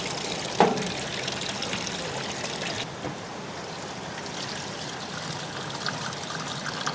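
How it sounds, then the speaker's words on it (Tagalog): Water is fetched and poured at a campsite at Camp Payapa: a brief splash opens, then a soft, continuous trickle and pouring runs on quietly with no talk. "Tapos mag-iigib pa tayo ng tubig."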